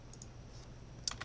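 A few soft, quick clicks of someone typing a pip command on a computer keyboard, quiet and close, heard over a faint steady room hum.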